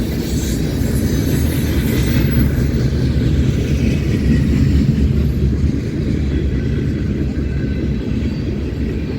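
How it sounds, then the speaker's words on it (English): Trains on a railroad line near Ashland, Fremont and Omaha, a loud continuous rumble of rolling rail cars with clattering wheels and faint squeal, steady throughout. "There's 3 trains sitting west of here on the line."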